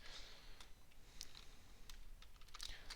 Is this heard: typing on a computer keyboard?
yes